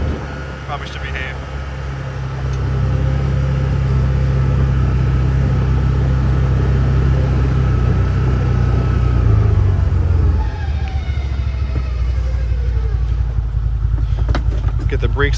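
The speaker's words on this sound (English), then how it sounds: "I love driving my truck on these days because it's so drifty. You can drift stuff around." A 2023 CFMoto UForce 1000 UTV driving and drifting on slippery ground, a loud, close, steady low engine rumble that rises and then eases off near the end, with no talking.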